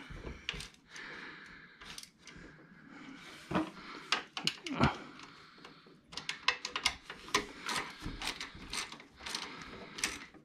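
A Craftsman ratchet tightens bolts while a 2001 Polaris Trail Blazer is repaired, giving close, irregular bursts of clicking and metallic clacks with short pauses between strokes.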